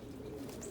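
Pigeons in a loft coo softly on a rainy morning, a brief low murmuring call, faint and close, with no voices.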